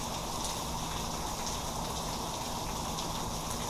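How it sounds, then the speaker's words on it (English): Rain falling outdoors as a steady, dense hiss that stays even and close throughout, with no talking. "Now that it's raining a little harder"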